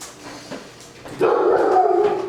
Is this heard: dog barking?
yes